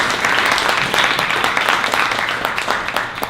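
Audience applause at a 1 Million Cups Dallas startup pitch event, a steady dense round of clapping from a crowd that holds for several seconds and then begins to thin out.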